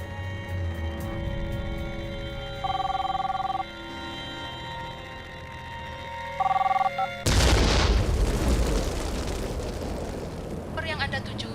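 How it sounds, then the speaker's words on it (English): A small bomb goes off at the American consulate: after a hum and two short electronic phone tones, a sudden loud blast bursts in and gives way to a sustained, rumbling roar with crackling debris until the end. "all they can do is explode the small bomb at the American consulate"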